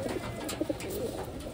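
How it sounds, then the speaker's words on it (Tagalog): A large pigeon gives a soft low coo, two short muffled notes close by under a noisy outdoor background, faint and brief. "Malaking ibon yata din."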